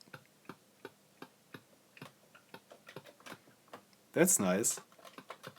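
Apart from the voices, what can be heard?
Commodore Max keyboard key click sound from speakers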